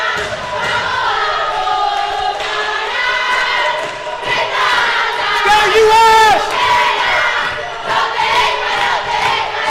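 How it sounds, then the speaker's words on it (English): Fans at the men's indoor hockey Pan American Cup final between Argentina and USA, the Argentine women's team among them, chant and cheer in unison in a rhythmic, swelling roar that peaks midway and carries on throughout. "Hope you were able to hear the cheering from the fans."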